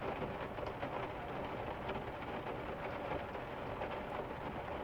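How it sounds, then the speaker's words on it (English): Steady, soft patter of rain drumming on a car roof, an even hiss with dense drops and no talking. "listening to the rain"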